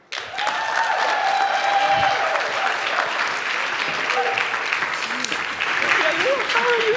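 A steady wash of audience clapping greets the Cortado team at a design pitch and demo day, holding strong for several seconds while voices murmur underneath.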